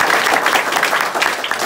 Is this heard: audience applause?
yes